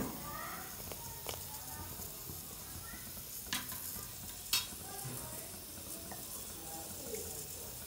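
Fried vermicelli being stirred into boiling milk for payasam: soft swishing and scraping of a spoon in the pot over a low simmer, with a few brief clinks, fairly faint and close.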